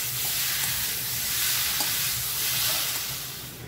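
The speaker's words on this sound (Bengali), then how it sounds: "এবার লবণ আর এটাকে ভালো করে মিশিয়ে নেব" A tomato-heavy masala with salt and sugar sizzles and hisses continuously in a pan as it is stirred, a loud, steady frying sound with no voices.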